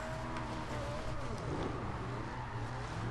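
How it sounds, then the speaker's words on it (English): A Ferrari 458 doing a burnout in the video game Forza Horizon 2: a continuous, dense engine roar with screeching tyre spin, loud and unbroken throughout. "This car's able to like spin second gear and do a burnout."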